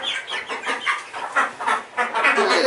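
Chickens and a rooster on a homestead give a string of short, close clucking calls in an uneven rhythm, fairly loud and with no talk over them.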